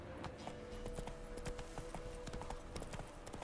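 Roach, a horse in The Witcher 3 video game, gallops with a fast, steady clip-clop of hooves, loud and close over continuous game ambience.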